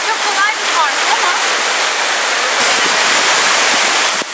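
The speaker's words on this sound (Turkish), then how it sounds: "Memleketimizde de böyle güzel şelaleler var." A waterfall roars as a steady, loud broadband rush of falling water at close range. A voice speaks briefly over it.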